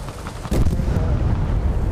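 In the game War Thunder, a sudden heavy boom of Israeli tank cannon fire and explosion erupts midway, followed by sustained loud rumbling and crackling, preceded by quieter game ambience.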